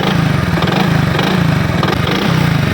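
A running motorcycle engine with a worn connecting rod, loud and close, a steady rapid knocking chug over the idle with a slightly uneven rhythm.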